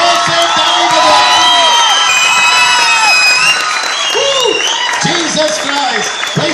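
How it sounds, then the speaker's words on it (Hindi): A church congregation claps and cheers loudly during a pastor's sermon, sustained applause with whoops and shouts, while voices call out over it throughout. "यहां तो यीशु के बच्चे भैया जोर से ताली बजाओ।"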